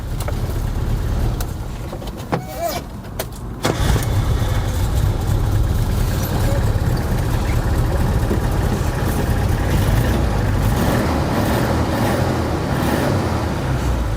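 A carbureted Suzuki Samurai engine cranks briefly, catches on the first try and settles into a loud, steady idle with a low rumble, close to the microphone.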